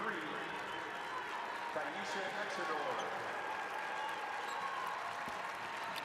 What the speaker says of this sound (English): Crowd applauding as Lewis comes off for Syracuse.